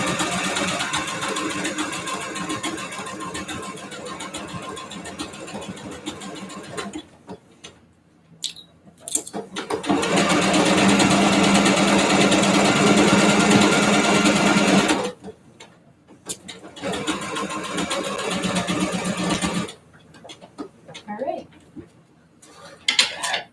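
A slow-running home sewing machine stitches a T-shirt seam in several bursts of steady whirring and needle chatter, separated by quiet pauses with small handling clicks.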